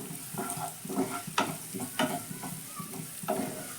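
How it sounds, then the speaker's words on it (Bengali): Turmeric is stirred into capsicum frying in a pan: a soft oil sizzle runs beneath repeated rhythmic scrapes and clacks of the spoon against the pan. "এবার হলুদটা আমি ক্যাপসিকামের সঙ্গে মিশিয়ে নিয়ে দিয়ে দেবো"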